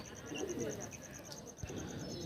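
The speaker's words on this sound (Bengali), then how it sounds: "সাইদুলদার লফটের কিছু পায়রা শো করাবো" Soft, low cooing of Delhi pigeons close by in a loft, over a quick, high, regular pulsing chirp in the background.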